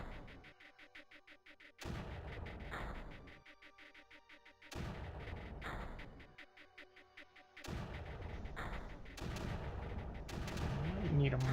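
Artillery strikes land in the strategy video game Creeper World, repeated booming blasts that come in three or four bursts, each followed by crackling, rattling debris and a low rumble.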